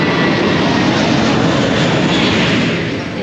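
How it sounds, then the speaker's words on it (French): Airplane on the runway at Gibraltar airport, a loud, steady broadband jet roar that fills the whole stretch without a break, easing off slightly at the end, with no talk. "au lieu d'attendre les voitures, on attend les avions"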